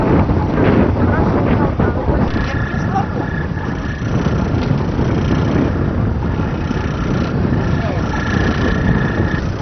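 Strong wind buffets the microphone throughout a yacht race, a constant loud roar, with no speech over it.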